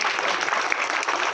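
Guests at a Buddhist-style wedding reception break into a brief burst of loud, dense clapping from a crowd, even and continuous.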